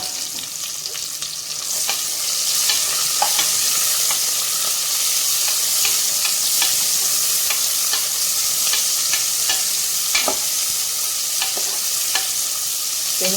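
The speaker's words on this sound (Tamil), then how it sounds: "வெங்காயம் பொன்னிறமாக வரணுங்கிறதெல்லாம் இல்லை, கண்ணாடி பதம் வந்தாலே போதும். அந்தளவுக்கு வதக்கிக்கலாம்." Medium-sized big onions frying in a pan while being stirred for a butter bean pulao, with a steady sizzle and a scrape of the spoon every second or so, close and fairly loud.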